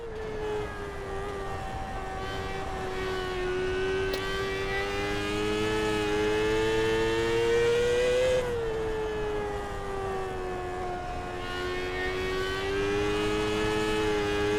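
A race car in a driving game spins its wheels on a dirt oval, the engine holding a continuous high, wavering drone that rises and dips slightly, steady and prominent throughout.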